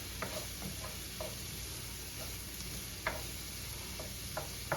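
Onions and garlic are stirred in a pan on the stove, with soft, faint spoon scrapes every second or so over a low, steady sizzle.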